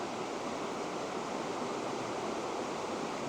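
A shallow riffle in an Alaskan stream where salmon school gives a steady, even wash of rushing water, constant and close, with no voices.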